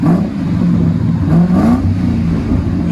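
A 2003 Ford Crown Victoria Police Interceptor with a 4.6L V8 and Dynomax Race Bullet dual exhaust blips its throttle nearby, giving smooth, deep revs that rise and fall twice over a steady rumble.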